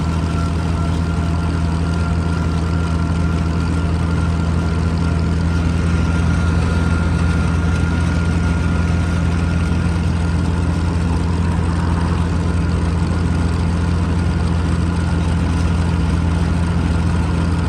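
A Massey Harris 92 combine's engine drones steadily and loudly under load while climbing a slight incline outdoors, a continuous low rumble with no speech.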